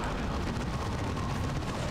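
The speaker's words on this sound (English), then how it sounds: "Throw a grenade on that." A grenade blast in the battle game Warhammer 40K: Dawn of War 2, a dense, sustained roar of explosive rumble filling the whole moment at steady loudness, with no voices over it.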